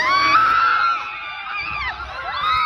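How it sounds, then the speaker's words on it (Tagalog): Riders on a Hong Kong Disneyland ride scream together, with shrill overlapping voices rising and falling over a few seconds. "O di ba walang nakita, puro sigaw na lang."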